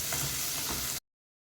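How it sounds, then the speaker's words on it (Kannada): Onions fry in oil for an egg gravy, a brief, quiet, even sizzle with light stirring that stops abruptly after about a second. "ಸ್ವಲ್ಪ ಈರುಳ್ಳಿ ಸ್ವಲ್ಪ ಟ್ರಾನ್ಸ್ಪರೆಂಟ್ ಆಗೋವರೆಗೂ ಫ್ರೈ ಮಾಡಿ."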